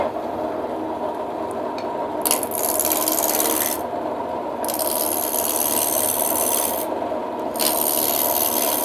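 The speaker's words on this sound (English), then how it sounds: "Okay, so we're ready to start roughing. I'm going to turn it on." Wood lathe roughing a spinning top with a gouge, loud rasping cuts in repeated bursts over a continuous motor drone.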